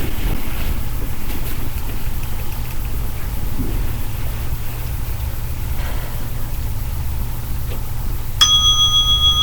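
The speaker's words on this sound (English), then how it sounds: "at the ring of this little bell." Over a constant low hum and airy background noise, a small meditation bell rings once near the end, clear and sustained, its tone hanging steadily.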